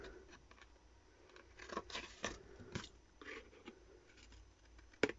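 Scissors cutting paper on a bias for a scrapbook project, a few short crisp snips and crunches spaced irregularly over quiet room noise, with one sharper snip near the end.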